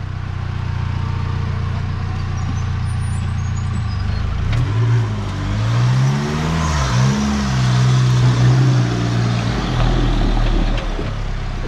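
A custom giant Triton RC crawler truck climbs a steep cut, its electric motor whining steadily with a pitch that rises and dips as it strains, loud and close, with no talking.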